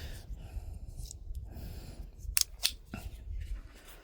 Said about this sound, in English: the scissors have started doing the same damn thing my arc did, where I have to give them an extra click now to get them out